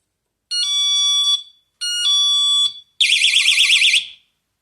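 A budget home security alarm sounds loud and close in three bursts: two steady piercing electronic tones, then a rapidly warbling siren, with silence between.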